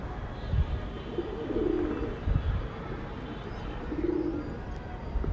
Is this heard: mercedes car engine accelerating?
no